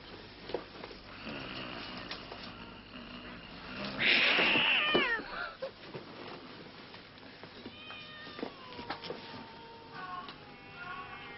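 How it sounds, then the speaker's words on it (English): A cat in a basket lets out a loud, drawn-out meow at mid-clip, then a few fainter, thinner mews later over quiet room noise. "Where is the cat, Mrs. Bond? In the basket"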